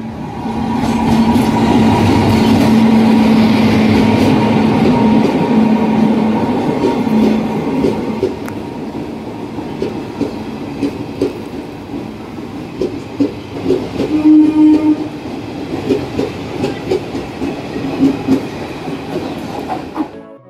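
A local train runs from Barrackpore to Sealdah with a loud, steady rumble of wheels on rails. The rumble later breaks into irregular clickety-clack jolts and rattles, heard from inside the carriage with no talking.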